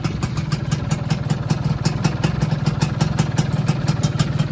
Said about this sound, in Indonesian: Nah, ini untuk suara mesinnya